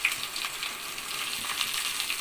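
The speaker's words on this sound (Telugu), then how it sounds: "ఇప్పుడు మష్రూమ్ పకోడీకి ఆయిల్ పెట్టుకున్నానండి. ఇప్పుడు ఒక్కొక్కటి వేసుకుందామండి." Masala-coated mushroom pakodas fry in hot oil, giving a steady, close, crackling sizzle throughout with no voices.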